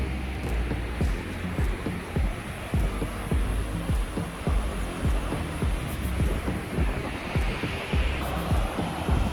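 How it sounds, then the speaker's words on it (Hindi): The Bhagirathi river flows fast down a slope below a mountain road near Harsil, making a steady broadband rushing roar with wind buffeting the microphone throughout. "अगेन नीचे बह रही है भागीरथी नदी।"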